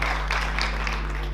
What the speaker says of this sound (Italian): Applauso a questa importante realtà.